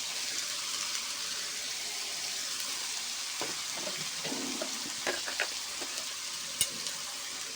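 A spice paste with turmeric and salt fries in a pan, a steady soft sizzle throughout with scattered clicks and scrapes of stirring midway, close and without talking.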